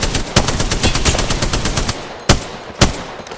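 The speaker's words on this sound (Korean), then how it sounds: "단발로 쏴야겠다. 총알 아깝다." Video game gunfire: a fast rattling burst of automatic shots for about two seconds, then two separate single shots, loud and close with no voices.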